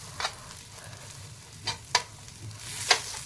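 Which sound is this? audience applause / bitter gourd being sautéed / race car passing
bitter gourd being sautéed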